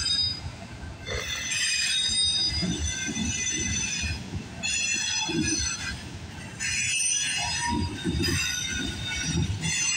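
A CPKC freight train rolls past the Guelph Line crossing in Campbellville, Ontario, with loud continuous rumbling wheels and high squealing wheel tones rising and fading as the cars pass close by.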